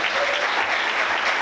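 A church congregation applauds during a sermon by a pastor, steady, full clapping from many hands sustained evenly and fairly loud throughout.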